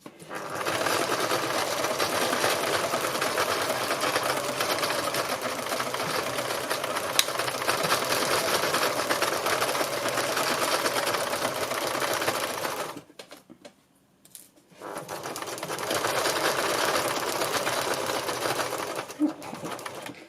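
A sewing machine stitches fabric in a fast, steady close-up whir, running continuously, stopping briefly for about two seconds, then starting up again.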